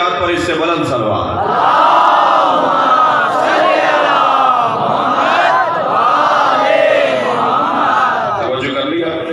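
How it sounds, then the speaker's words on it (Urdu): Crowd at a Shia majlis for 11 Safar loudly reciting salawat together, a sustained chant of many voices in rising and falling waves, near and powerful throughout. "مولا حسین کی ذات پر اس سے بلند صلوات"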